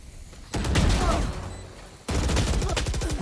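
Rapid gunfire in the video game Valorant, two loud bursts of fast repeated shots separated by a brief lull, close and dominant.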